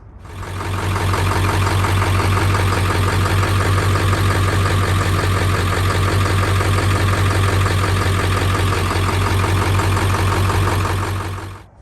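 An old diesel truck engine, freshly filled with Shell Rotella T6 oil, idles close and loud with a steady low rumble and a rapid, even knocking clatter throughout, starting and ending abruptly.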